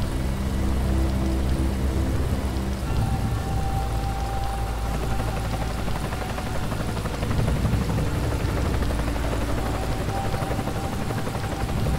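A helicopter flies away in the Dead Island Definitive Edition zombie video game, making a loud, steady roaring and whirring wash that fills the whole stretch without a break.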